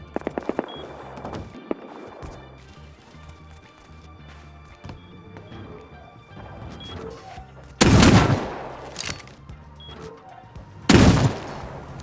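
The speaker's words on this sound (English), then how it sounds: "Hearing shots nearby" Gunfire in the survival video game Rust: a rattle of sharp shots at the start, then after a quieter stretch two loud booming blasts several seconds apart, close and heavy, with no talk.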